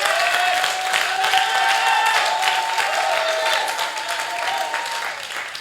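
A church congregation at a French-language service breaks into steady, loud applause to acclaim the Lord, the dense clapping filling the room with voices mixed into it.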